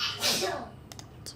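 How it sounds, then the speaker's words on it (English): A child sneezes once nearby, a short burst of breathy noise, followed by a few faint clicks in the quiet afterward. "Sorry, my son's sneezing."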